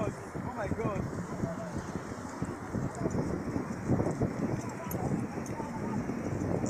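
A horse walks during a ride to a beach, hooves clopping in an uneven rhythm beneath wind buffeting the microphone, while people talk over it.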